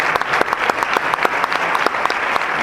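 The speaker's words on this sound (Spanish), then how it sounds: "un fuerte aplauso" Applause from the audience at an education symposium closing an inaugural lecture, a dense, steady patter of many hands clapping at close range with no voices over it.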